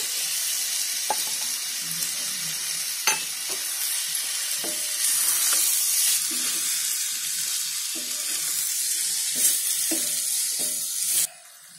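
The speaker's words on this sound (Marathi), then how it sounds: "आता हे सर्व भाजीमध्ये आहे ना अंडी टाकते" Eggs hit a pan of frying spiced vegetables for an egg vegetable breakfast dish, giving a steady, fairly loud sizzle throughout, with occasional clinks and stirring scrapes near the mic, and no talk.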